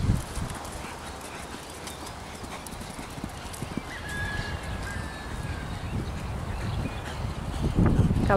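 A large, very calm tostado (dun) horse's hooves clip-clop at a steady, unhurried walk over dry ground, with faint birds and a brief whinny in the background.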